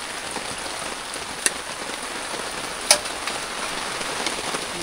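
Heavy rain pouring steadily on a campsite at night, a dense even hiss of drops on surfaces with a couple of sharper single drips, no voices.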